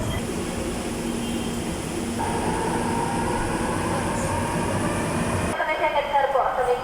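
An MRT metro train at Araneta Cubao station rumbles steadily, with a rising whine and metallic rail noise, then the tone cuts off near the end as the noise changes.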